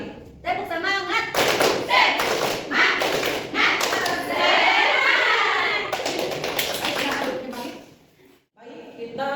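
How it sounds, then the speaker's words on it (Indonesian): A classroom group does a rhythmic cheer clap during a teaching practice session, with bursts of sharp, patterned clapping mixed with voices chanting and talking, ending in a brief pause. "Tepuk semangat."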